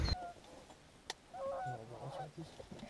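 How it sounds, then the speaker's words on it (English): Geese honking a few times at a distance while duck hunting in Minnesota, faint and spread out, after a sharp knock at the start. "we just had a flock of geese come in,"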